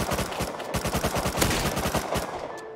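Rapid automatic gunfire in a video game, a fast, even burst of close, punchy shots rattling steadily for nearly three seconds with no talking over it.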